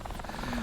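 Rotor thump of an AH-64D Apache helicopter in the DCS World flight simulator, a steady rhythmic chopping with engine whine, loud and continuous through the short stretch.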